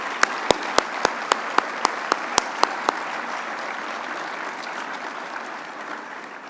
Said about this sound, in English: let's give each of these ladies and gentlemen a round of applause